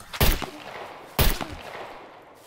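Two sharp gunshots in the game SCUM, about a second apart, each with a short booming tail, like synthetic game gunfire over a low steady hum.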